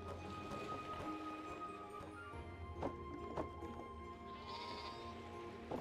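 Sheep in the farming and factory-building video game Kubifaktorium bleat several times at a low level over soft game background sounds and a few short clicks.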